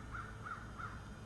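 Three soft, evenly spaced yelps from a slate turkey call worked gently during an early April turkey hunt in Tennessee, each note short and clear over a steady low background rumble.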